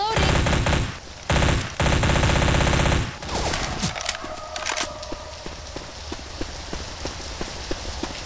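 Submachine gun fire in a shooter video game: loud, rapid automatic bursts for about three seconds with brief gaps, then sparser single shots and clicks further off against a busy background.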